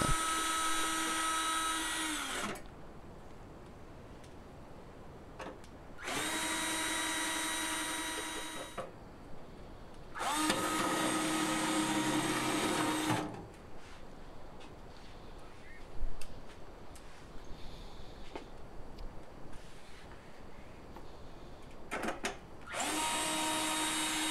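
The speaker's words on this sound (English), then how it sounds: "Install the other four bottom screws that secure the muffle to the kiln." A power screwdriver whirs in four separate bursts, each a few seconds long, driving the bottom screws that secure the muffle to a Paragon SC-series kiln, with quieter handling noise and small clicks between them.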